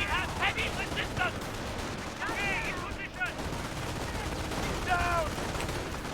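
Infantry firefight in the Company of Heroes battle game, with rifle fire and a stick grenade against a rebel-held house, heard as a dense, fairly faint crackle of gunfire under ongoing noise with brief chirping tones.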